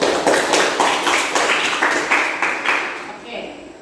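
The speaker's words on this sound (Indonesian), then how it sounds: "Kita beri aplaus dulu." Steady hand clapping from a classroom of students, a run of rapid claps with a regular rhythm that fades out near the end.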